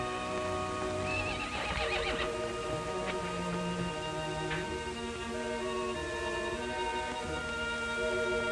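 A horse in an old frontier Western neighs loudly with long, shrill whinnies, nearby and alone, with a few faint hoof clip-clops among the calls.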